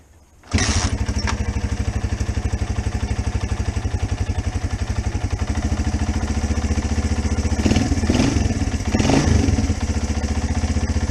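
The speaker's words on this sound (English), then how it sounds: "what I'll do is just show you it starting from completely cold" A Honda CB100N motorcycle engine starting from completely cold catches after a brief silence and settles into a steady, rapid idle, with a couple of light throttle blips later on.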